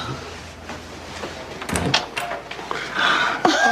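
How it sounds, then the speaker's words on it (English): A house door is opened onto a newly made-over room, giving a cluster of clacks and a creaking swing over a muffled background, with indistinct voices rising toward the end. "Go through that door and check out your new room."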